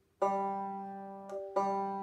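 Two banjo notes plucked with the thumb on the middle string ring out clearly, each with a bright twangy attack and a sustained ring, close and alone.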